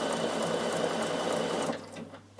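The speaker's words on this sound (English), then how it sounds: "we're going to sew it on the sewing machine and edge stitch it on the sewing machine" A Bernina sewing machine edge-stitches fabric with a close, loud, continuous rapid whirr that cuts off just before the end.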